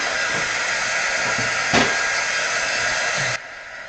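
A blower or heat-drying tool runs in a steady, close broadband hiss while drying gel paint, with faint small knocks beneath it, and cuts off sharply just before the end.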